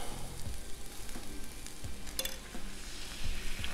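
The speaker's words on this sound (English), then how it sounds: "Let's cook these eggs up." Eggs frying on a Blackstone griddle turned all the way to low, a steady close sizzle with occasional spatula scrapes and taps against the flat top.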